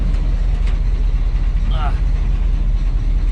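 A tuned car's engine idles steadily with a rich fuel mixture, a continuous low rumble filling the clip from start to finish at close range, with a faint brief chirp partway through.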